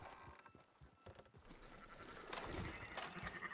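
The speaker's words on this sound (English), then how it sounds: "Fine sheep." Sheep bleating at a ranch in Red Dead Redemption 2, a few wavering bleats rising over soft hoof clops and faint farmyard ambience, moderately near and fairly quiet.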